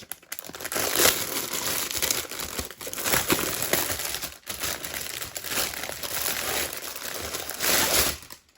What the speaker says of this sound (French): je vais essayer de déballer vite fait pour enlever le plastique pour éviter de faire trop de bruit